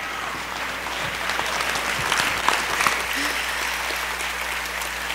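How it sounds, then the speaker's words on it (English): An audience claps warmly to welcome a speaker, a steady, fairly loud burst of applause with a few voices faintly mixed in. "I'll have somebody clapping for me"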